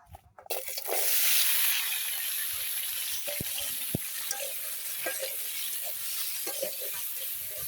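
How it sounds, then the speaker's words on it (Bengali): Potatoes hit hot oil with a loud, steady sizzle that continues throughout, with occasional clinks of a stirring utensil. "এই তেলের উপর এখন আলুগুলো ছেড়ে দিব"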